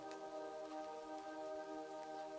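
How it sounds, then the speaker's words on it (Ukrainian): Soft rain falls with faint drops tapping a tin window sill, a quiet, steady patter layered under a sustained low tonal drone. "тихим шурхотом дощу та ледь чутним цокотом крапель по бляшаному відливу вікна"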